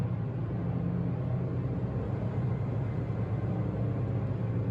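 Cabin of a Mitsubishi Mirage, a small cheap car, filled with loud, steady road and tire roar and low engine rumble at speed, constant throughout with no talking.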